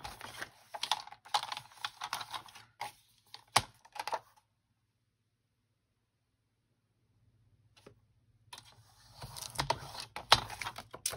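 Scissors snipping through paper to cut out cash envelopes, a run of close, crisp cuts for about four seconds, a quiet pause, then more cutting near the end.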